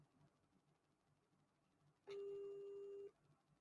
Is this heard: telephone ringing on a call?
yes